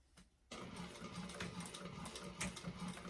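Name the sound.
sewing machine top stitching a bag seam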